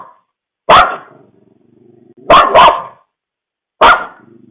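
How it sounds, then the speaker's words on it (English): A dog barks at something unseen, caught on a Ring camera: a single sharp bark, then a quick double bark, then one more, loud and close with quiet pauses between. "we can hear the dog barking at something"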